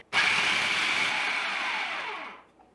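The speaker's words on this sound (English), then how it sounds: "The food processor gets them a little bit finer than pea-sized pieces of crumbs than if you were to use a pastry blender" A food processor blitzes butter, flour and salt into coarse crumbs for a gluten-free pie crust: one loud, close whirring burst of about two seconds that starts abruptly, holds steady, then winds down.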